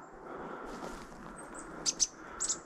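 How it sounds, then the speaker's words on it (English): Chickadees call along a rural Nova Scotia riverside: two quick high chirps, then another brief pair a moment later, fairly faint against steady outdoor background noise. "Here are a couple chickadees here,"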